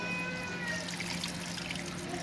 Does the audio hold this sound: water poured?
yes